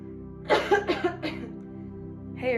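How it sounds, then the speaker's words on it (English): Someone coughs after vaping: three or four harsh, close coughs in quick succession, then a short pause and a rough throat sound, over a faint steady hum. "ever since I started vaping, I've been coughing so much."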